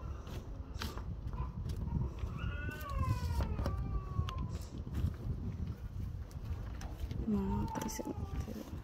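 A cat meows twice, a drawn-out call and then a shorter one a few seconds later, over a low rumbling background.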